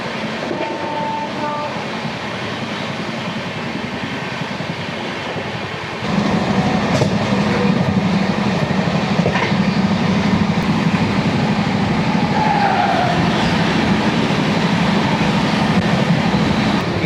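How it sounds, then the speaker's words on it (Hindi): Freight trains on a dedicated freight corridor near Etawah roll past, heard from aboard a passenger train in heavy rainfall; a steady rumble of wheels on rails swells louder partway through and continues with rhythmic clatter, no talking. "ये जो मालगाड़ियाँ जा रही है ना"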